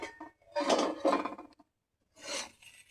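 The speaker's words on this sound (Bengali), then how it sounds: "ঢাকনাটা খুলে নেব বন্ধুরা।" Short scraping, clinking rubs as a lid is lifted off a covered cooking pot, in two distinct bursts separated by a brief quiet gap.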